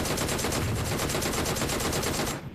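Sustained rapid automatic gunfire in PUBG Mobile, loud and continuous bursts from a weapon held down against recoil, cutting off abruptly near the end.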